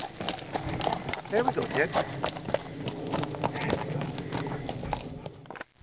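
Horses walking on a desert trail, their hooves clip-clopping in a steady, uneven rhythm close by, while people chat over the footfalls.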